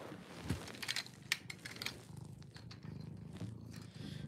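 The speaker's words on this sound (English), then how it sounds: "I got a cat." A cat purrs up close in a steady, low rumbling rhythm with soft rustling and a few louder bumps, no talking over it.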